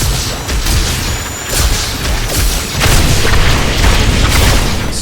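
Dense barrage of booming explosion effects from the Wand of Woh in Diablo 3, loud and continuous over five seconds with overlapping blasts and crackling bursts, no talk.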